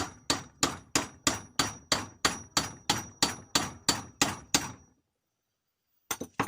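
A metal hammer strikes about thirteen sharp, ringing clangs at an even, steady rhythm while a new handle is driven on, then falls silent before two more quick hits close by.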